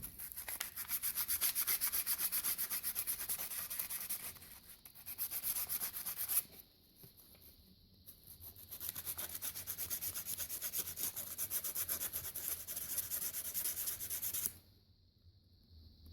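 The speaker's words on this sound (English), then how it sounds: "So we'll grab some sandpaper and clean up the terminal ends." Sandpaper scrubs hard at the battery terminal ends of a Suzuki DRZ400 motorcycle, a steady close rasping that runs in long strokes with brief pauses and no talk.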